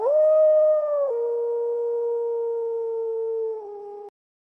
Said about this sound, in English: Wolf wolf.